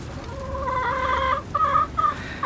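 Several chickens cluck in a steady, overlapping chatter, close by, with a low rumble of background noise underneath.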